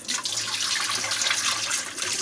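Water pours steadily over rice in a bowl as it is rinsed clean for chicken kabsa, a continuous close splashing rush that lasts throughout with no talking.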